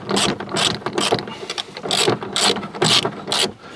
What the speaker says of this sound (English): I've got the 17mm on an ordinary wrench, so we will do it with this, hopefully.